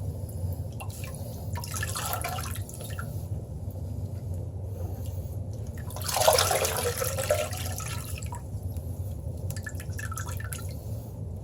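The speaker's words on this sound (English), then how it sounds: "You want to give it some good squeezes in the water." An aquarium sponge filter squeezed underwater gives soft sloshing, gurgling water in a few bursts, the strongest in the middle, over a low steady hum, close and fairly quiet.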